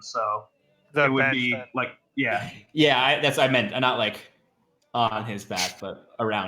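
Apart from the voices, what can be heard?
No everyday noises stand out.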